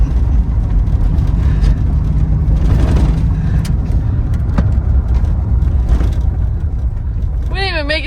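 Worn $500 Chevrolet Silverado pickup driving and braking during a brake test, a steady low engine and road rumble throughout with a brief tonal whine near the end, voices talking faintly over it.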